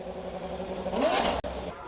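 An A1 GP racing car's engine keeps running after a mishap on the track, a steady mid-level drone that swells into a brief louder rev near the middle, then settles again with a short dropout.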